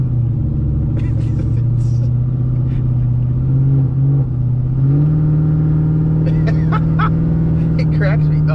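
A 500ci twin-turbo big-block V8 in a Chevrolet Colorado idles loud and close with a deep, steady lumpy rumble that rises in pitch partway through, while someone talks over it.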